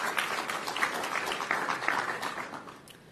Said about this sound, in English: To Teola and Elaine, round of applause for them.